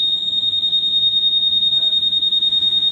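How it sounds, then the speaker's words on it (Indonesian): Piercing electronic buzzer from the keyless security alarm fitted to a Yamaha MX King scooter-style motorcycle, one unbroken shrill tone held loud and near for several seconds without any voices. "Kurang lebih 15 detik dia ada bunyi buzzer ya."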